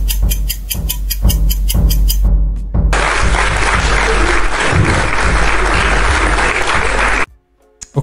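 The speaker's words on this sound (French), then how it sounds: "je vais juste prendre cet applaudissement" Applause sound effect: after a brief patch of other audio, a dense, loud burst of crowd clapping plays for several seconds, then cuts off abruptly into near silence.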